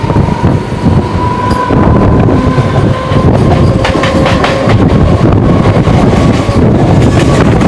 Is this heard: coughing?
no